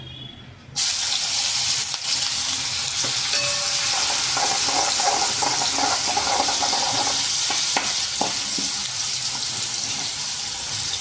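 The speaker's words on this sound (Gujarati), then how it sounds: "કાંદાને સરસ સતળાવા દેશું જેથી કરીને કાચો સ્વાદ ઓછો આવે" Chopped onions sautéing in a pan for a cashew and garlic curry give a loud, dense, continuous sizzle from close by, with occasional stirring scrapes and clinks and no voices.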